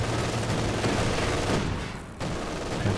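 Machine gun and mortar fire in the video game Company of Heroes 2, a dense, noisy crackle of battle that dips briefly and then resumes, with no talk.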